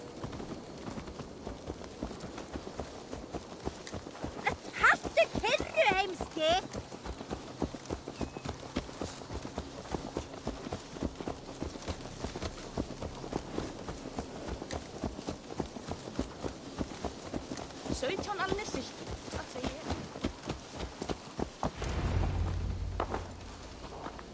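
Horse hooves clip-clop steadily in Assassin's Creed Valhalla, a dense, even rhythm of close, moderately loud footfalls carrying on for the whole stretch, with a brief low rumble near the end.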